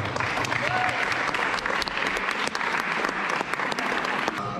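Loud, steady applause from a crowd at a youth football tournament in Košice, a dense clatter of clapping that runs unbroken from start to finish with a few sharp individual claps standing out.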